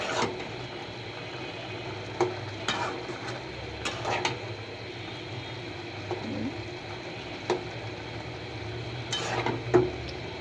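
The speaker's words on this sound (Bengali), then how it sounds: "এখন এটাকে একটু নাড়াচাড়া দিতে হবে" Noodles and boiled potatoes are stirred in a pot, giving soft scattered scrapes and clinks of a utensil against metal over a quiet background, fairly close.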